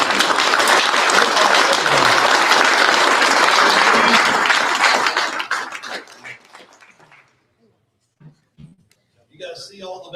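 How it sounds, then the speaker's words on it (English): Loud, dense applause from an awards-ceremony crowd at the PRI trade show honours a Drag and Drive World Champion, roaring for about five seconds before tapering into scattered claps and near silence, then a voice speaks. "Let's give him a round of applause."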